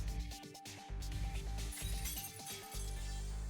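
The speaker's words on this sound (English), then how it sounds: "I hear glass shattering." Glass shattering in the Fate/stay night video game, a bright crashing break heard loud and up close over steady game music, with a sharp burst near the start and ringing debris continuing throughout.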